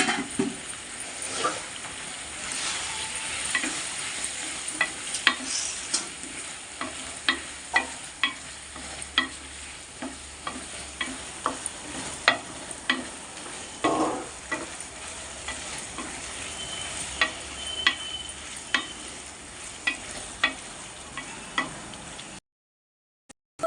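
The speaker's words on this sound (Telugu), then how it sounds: "ఫ్రెండ్స్ అల్లం పేస్ట్ వేసాను" Ginger paste fries and sizzles in a pan for a mango and small-prawn curry, a steady hiss punctuated by frequent sharp scrapes and taps of a spoon stirring it, close and without talk.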